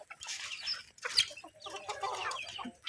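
Chickens cluck and call nearby in several short bursts separated by brief pauses, with a faint low hum underneath.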